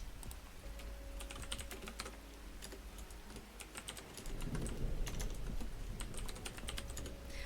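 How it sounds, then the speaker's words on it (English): Steady computer keyboard typing with irregular bursts of clicks and keystrokes, fairly close, continuing throughout over a low background hum. "The sound of your typing was relaxing."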